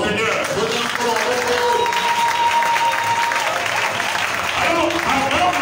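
A church congregation applauds and cheers in praise during a worship service, dense sustained clapping with voices mixed in, loud and continuous throughout.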